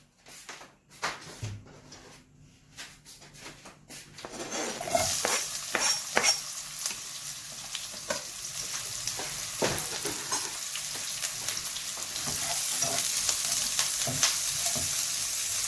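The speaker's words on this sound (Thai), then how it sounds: "ผัดให้หอมนะ แต่ยังไม่ต้องให้เหลืองนะครับผม" Thinly sliced shallots stir-fried over medium heat in a pan: a few scattered scrapes and taps first, then a steady, close sizzle with repeated spatula stirs and scraping that builds and holds to the end.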